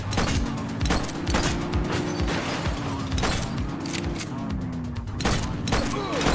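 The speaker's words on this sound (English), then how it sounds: "Is that gunfire?" Scattered gunshots in the video game The Precinct crack out in sharp bursts over a rising and falling siren-like tone and background commotion, with voices talking throughout.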